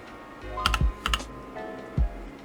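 Close keystrokes on an E-YOOSO K-620 mechanical gaming keyboard with hot-swappable brown switches: a few separate presses and short double taps, crisp and clicky, over a quiet room hum.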